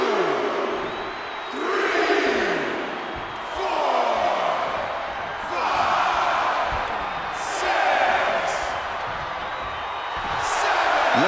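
Arena crowd cheering and roaring in a WWE 2K24 Last Man Standing match on PS5, a steady broad roar swelling in waves with sharp slams and impacts punctuating it, loud and continuous.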